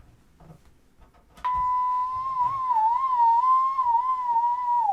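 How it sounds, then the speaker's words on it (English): A steady synthesized tone, driven by the tilt of an accelerometer's x-axis, starts abruptly after faint background noise and holds while its pitch wobbles gently up and down before dipping at the end. "You can hear how the frequency changes as I tilt the x-axis of the accelerometer."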